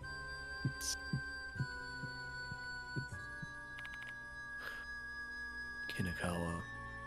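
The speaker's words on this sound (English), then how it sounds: "I can feel my heart pounding loudly." Heartbeat pounding effect from the horror adventure game Death Mark 2, a series of soft low thumps in a steady double rhythm, fairly quiet under a sustained musical drone with occasional brighter effects.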